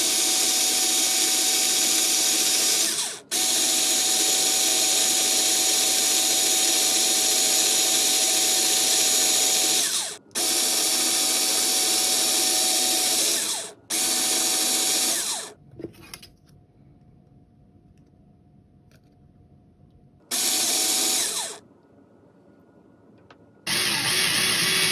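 A drill spins to coil 28 gauge wire around a mandrel, whirring loudly in several bursts of a few seconds each, separated by brief stops and a longer quiet gap.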